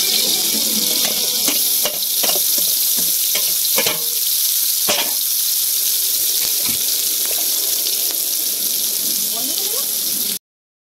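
Beans, carrot and capsicum frying in a pan for fried rice, a steady bright sizzle throughout with occasional scraping clicks from stirring, close and continuous until it cuts off.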